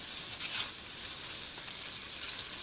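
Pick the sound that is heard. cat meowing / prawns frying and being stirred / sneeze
prawns frying and being stirred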